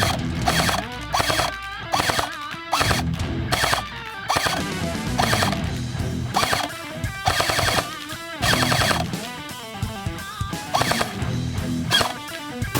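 An airsoft gun firing at roughly 361 FPS, a rapid, loud stream of mechanical clacking shots in sustained bursts with brief breaks between them, close up.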